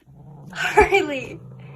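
A sleeping cat gives a short, rising growl that swells to a strained peak and then trails off, close and moderately loud over a low background hum.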